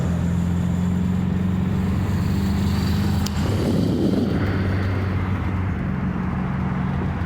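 A 1970 VW Bug with a stick shift being driven, its engine a steady low drone with road rumble throughout, a brief surge of noise midway, continuous and fairly loud with no talking.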